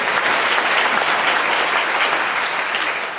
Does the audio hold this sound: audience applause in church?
yes